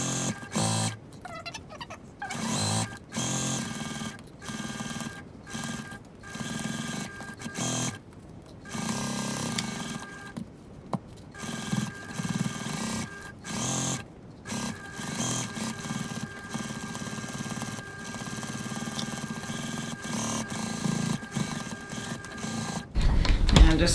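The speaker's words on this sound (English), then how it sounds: "I'm going to stitch all the way around using a 1 centimeter 3/8 of an inch seam" A domestic sewing machine runs in short and longer bursts as it stitches a 1 cm seam around a fabric travel sling bag at 2.4 stitch length, a steady close-up whirring hum broken by frequent brief stops.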